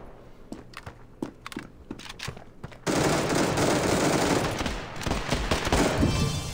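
Rapid bursts of gunfire in the mobile shooter game Standoff 2 start out as sharp separate tapped shots, then run into a loud, dense stream of fire that carries on through the rest of the clip.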